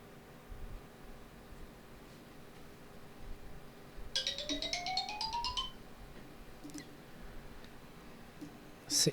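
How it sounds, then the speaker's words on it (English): A kitchen timer signals that cat food has finished cooking: a faint, brief electronic beeping chirp rises in pitch, heard at a distance under quiet room noise. "That sound was the sound of my cat's food being cooked to perfection"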